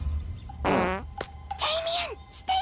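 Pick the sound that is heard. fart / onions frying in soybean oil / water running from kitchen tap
fart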